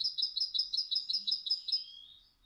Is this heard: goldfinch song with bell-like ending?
yes